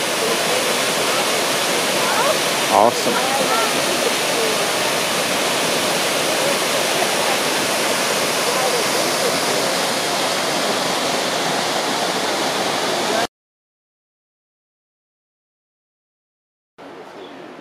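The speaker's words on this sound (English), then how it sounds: "Early into the hike, we found this beautiful waterfall in Ramsey Creek." Steady, loud roar of a waterfall on Ramsey Creek along a forest hiking trail, a broad constant rush filling most of the clip before cutting out briefly and returning, with a short spoken exclamation early on.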